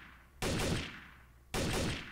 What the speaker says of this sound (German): Renz schießt auf mich, der ist hier unten.